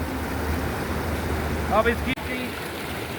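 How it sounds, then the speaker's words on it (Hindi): A cold mountain stream rushing beside the Leh to Srinagar road in Ladakh, a steady broadband roar of flowing water, with someone briefly speaking over it. "नीचे इस जल की धारा का आनंद लेने के लिए"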